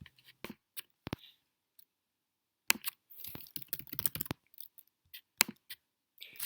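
Sparse clicks and clatters of keys on a Mac computer keyboard, with short isolated taps and a denser burst of typing in the middle, close and fairly quiet.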